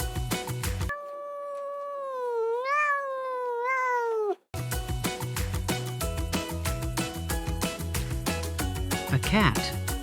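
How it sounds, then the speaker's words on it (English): A single long, wavering cat meow rises and falls for a few seconds, alone between stretches of bouncy background music with a voice over it. "A cat."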